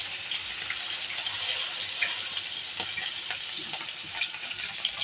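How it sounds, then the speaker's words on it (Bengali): Water goes into a frying pan of hilsa fish and brinjal cooking in oil, giving a busy bubbling sizzle with crackles and small pops, fairly close and steady, with no talking. "এখন পানি দিয়ে দেবো।"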